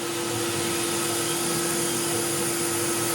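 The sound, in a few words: CNC milling a slot with 1/16 inch end mill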